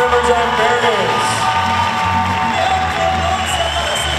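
Audience at a high school folkloric dance show applauding and cheering for the dancers, a loud continuous roar of crowd noise and whoops with voices mixed throughout.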